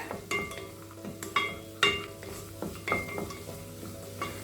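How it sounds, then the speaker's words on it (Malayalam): Cashews and almonds sauté in a pan for an Egg Mughlai gravy, with a soft steady sizzle under repeated scraping spatula strokes and a few light metallic clinks. "അത് ചേർത്തിട്ട് നന്നായി വഴറ്റിയെടുക്കുക"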